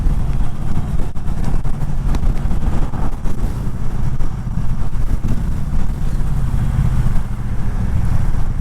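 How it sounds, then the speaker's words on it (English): A Triumph Bobber motorcycle runs in fifth gear at about 40 mph, its engine a loud, continuous low rumble blended with heavy wind buffeting, with no voices over it. "I'm in 5th gear going 40 miles an hour, and it just grunts it through."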